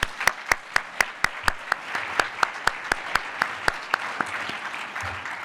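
Applause from a conference audience at an awards and business meeting, with one prominent clapper striking a steady, regular beat close by over a softer wash of clapping from the room.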